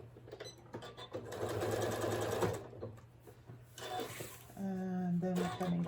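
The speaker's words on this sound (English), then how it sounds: "this makes it so that you can sew the fabric together." A sewing machine stitches fabric for a solar power bank cover, its close, steady mechanical whir and rattle running in long bursts with a brief slowdown in the middle.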